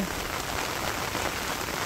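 Steady rain pours down on a Bangladeshi village, a dense, even hiss of drops striking surfaces all around, loud and constant with no voices.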